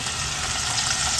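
Oil sizzles and crackles steadily in a pan as food fries for the next day's breakfast, a continuous bright hiss heard close and alone while sinigang boils nearby.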